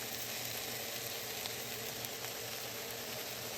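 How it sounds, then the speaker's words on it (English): Onions stir-frying on high heat make a constant, even sizzle and crackle that carries steadily from start to finish at moderate volume, with no talking. "Make sure it's on high, because right now you're just stir frying it."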